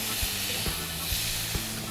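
A 35-day dry-aged ribeye steak hisses in a continuous sizzle on a GrillGrate over a Weber kettle, with a few soft clicks and taps standing out against the steady sizzle.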